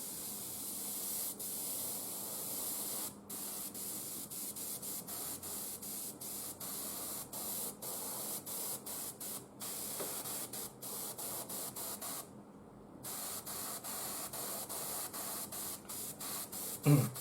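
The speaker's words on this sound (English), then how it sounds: "We'll spray it with the metallic red." Steady metallic red aerosol spray paint hissing close by, broken by brief pauses as the nozzle is released and pressed again, with one longer gap near the end.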